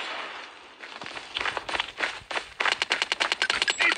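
Automatic gunfire in the shooting game Call of Duty Mobile plays as rapid bursts, starting sparse and building into a fast, loud rattling stream toward the end.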